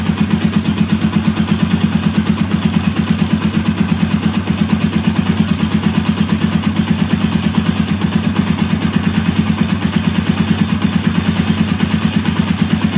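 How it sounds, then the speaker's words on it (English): A Yamaha TW200 motorcycle's single-cylinder engine idles steadily and close up, a fast even thumping pulse that holds unchanged for the whole stretch with no voices. "So with the bike idling,"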